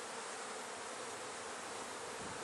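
Dense, steady buzzing of many honeybees inside a hive box, continuous and close with no pauses.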